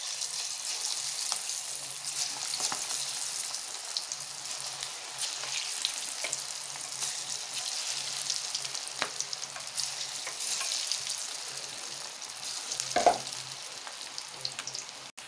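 Moong dal pakoda batter frying in hot oil, a steady broad sizzle running throughout with a brief louder crackle near the end, close and alone with no talk.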